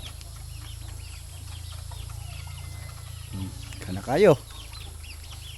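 A chicken gives a short burst of clucking near the end, over steady background hum, with a person speaking briefly.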